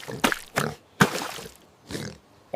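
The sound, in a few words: pig oinking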